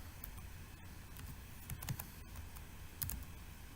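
Keystrokes on a computer keyboard while entering a web address, heard as scattered light clicks with a few quick bursts over a steady background hum.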